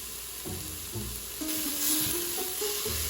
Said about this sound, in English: In an Instant Pot, melt butter on the sauté setting